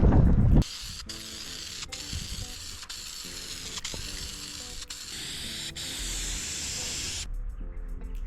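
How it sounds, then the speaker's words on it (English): A steady aerosol vinyl spray paint hisses for several seconds with brief gaps between bursts, over faint background music. "I got this vinyl spray paint that I'm gonna try to spray on it"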